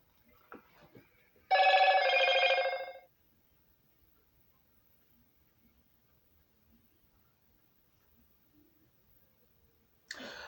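Phone notification tone, a short bright electronic chime burst lasting about a second and a half, loud against a quiet room, followed by a faint click and another brief tone at the end.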